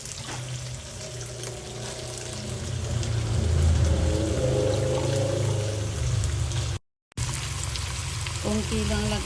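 Ground beef frying in a pan, a steady close sizzle that swells in the middle, with faint kitchen clatter and a brief break near the end.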